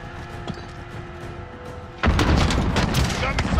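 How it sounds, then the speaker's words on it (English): Cruise missile launch blast in Call of Duty: Modern Warfare arrives as a sudden loud boom partway through, turning into a heavy rumbling roar after quieter background battle noise, with voices in the mix. "Cruise missile. Go for launch."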